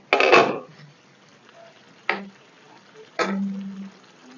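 A spoon scrapes and clinks against a pan while dhaba-style egg curry is stirred, in three separate short strokes with quiet gaps between and a soft simmer underneath.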